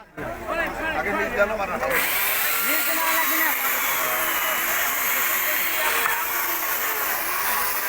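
A power saw, likely a chainsaw, cuts through fallen tree branches blocking a highway, a loud sustained whine running steadily throughout after a short quieter start, with voices faintly underneath.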